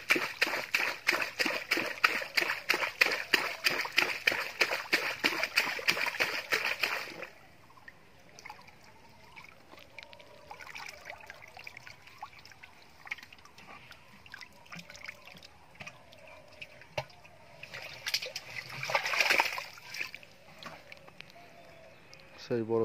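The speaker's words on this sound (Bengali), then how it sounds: "এইভাবে আবার পরপর রুই মাছ ছাড়া হচ্ছে এইভাবে।" Rohu fish released one after another into a large village pond, with rapid rhythmic splashing and water sloshing for several seconds, then quieter trickles and a later burst of splashing amid background sound.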